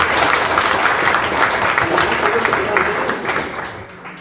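Crowd applause at a Bolivian political rally, a dense, steady wash of many hands clapping that holds loud throughout and thins slightly near the end, with faint voices mixed in.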